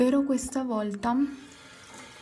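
Water runs from a tap in a steady background wash while someone talks over it close to the phone, her voice dominating the first second before the flow continues more quietly alone.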